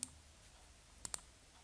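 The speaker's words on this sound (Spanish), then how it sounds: "Doy un clic afuera de la imagen" A few sharp computer mouse clicks while working in PowerPoint: one at the start, then two quick ones close together, in an otherwise quiet room.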